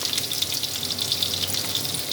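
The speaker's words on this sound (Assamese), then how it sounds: "গৰম তেলত মই পিয়াজ অকণ দিলো ভাজিব" Onions frying in hot mustard oil in a pan, a steady dense crackling sizzle that holds evenly throughout, close and moderately loud with no talk.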